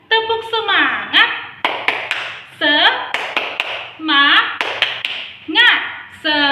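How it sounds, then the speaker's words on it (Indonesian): Children clap the Indonesian tepuk semangat rhythm in a classroom, sharp grouped hand claps punctuating chanted call-and-response voices, loud and close with short pauses between phrases. "Ayo kita tepuk semangat. Tepuk semangat."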